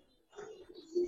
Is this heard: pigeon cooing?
yes